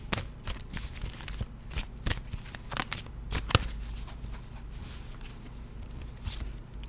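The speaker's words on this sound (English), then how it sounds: "let's take the Marcel Tarot deck, and let's see what two cards we have here" A Marcel Tarot deck being shuffled and cards drawn: close, brisk riffling and flicking of card stock in irregular bursts with soft slaps, no talking.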